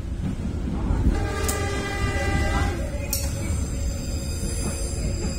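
Passenger train on the Bogor to Merak line running with a continuous loud rumble and wheel noise, a horn tone sounding in the middle and bright metallic squeals above.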